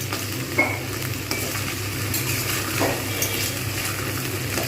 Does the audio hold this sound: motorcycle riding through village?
no